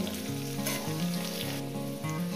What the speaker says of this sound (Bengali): এটাকে আমি প্রায় সুন্দর করে ভেজে নেব